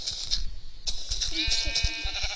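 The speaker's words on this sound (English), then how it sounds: "Oh, sheep." Sheep bleat in the Minecraft video game, a short series of close, clear bleats over steady game background sound.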